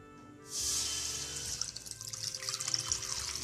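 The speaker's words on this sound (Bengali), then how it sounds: "এপাশে একটা কড়া বসিয়ে দিয়েছি তার মধ্যে দিয়ে দিচ্ছি দুধ" One litre of milk is poured into a kadai, starting suddenly as a steady close-up pouring rush that carries on alone to the end.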